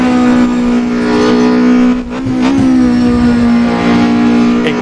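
Opel Kadett C 16V engine in the Assetto Corsa racing game, a loud steady mid-pitched drone held throughout with a brief dip near two seconds as revs shift, then resuming under continuous throttle.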